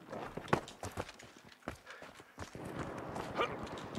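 Footsteps in The Finals video game: a run of quick, uneven steps, fairly near and moderately loud, with no voices over them.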